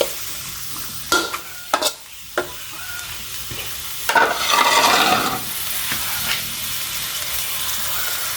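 Garlic stir-fried in a pan for Thai basil stir-fry with glass noodles and fish balls, with scattered scrapes and clacks of the spatula, then a louder burst of sizzling midway that fades back to quieter scraping.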